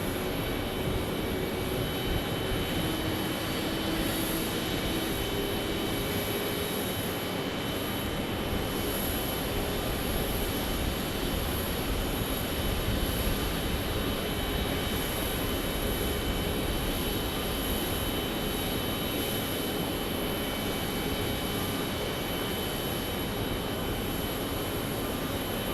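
A Boeing 737 Max 8 airliner at Phoenix Sky Harbor Airport keeps up a broad, steady engine rumble and roar for the whole stretch, fairly loud and unbroken, with no voices over it.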